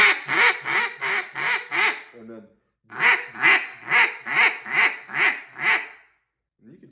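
Beginner blowing a duck call, producing repeated raspy quacks in two rhythmic runs of about five and seven notes, close and fairly loud, separated by a brief pause.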